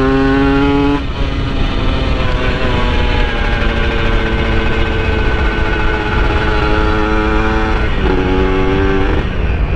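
A motorcycle engine fitted with a PWK 28 carburetor on a reamed 32 setup revs loudly and close up, holding a steady high-pitched drone with short dips in pitch where the throttle eases off and picks up again.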